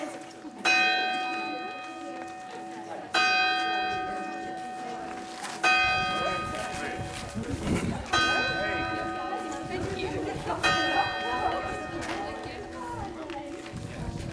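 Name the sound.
church bell chiming at twelve o'clock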